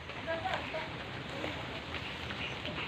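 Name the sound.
rain falling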